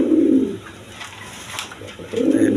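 A male Spanish pigeon coos close by, giving one low, throaty coo at the start and another at the end, with a quieter pause between them.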